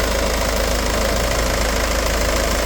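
Car engine with a blown head gasket and leaking coolant, running at idle with a steady, loud knocking rumble and vibration throughout, no talk over it.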